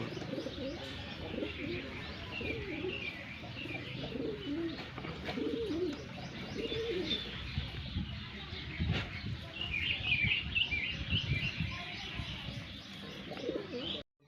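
A large, jumbo-sized pigeon coos repeatedly at close range in soft, throaty phrases, mixed with chirps from other birds and occasional faint voices in the background.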